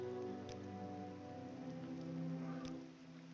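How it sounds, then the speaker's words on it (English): Rain falls in the game Morrowind with the Tamriel Rebuilt mod, a faint, even hiss of rainfall with a couple of soft drop-like ticks, mixed with quiet background music. "I'm going to just real quick fix the audio because that rain sounds holy bejesus."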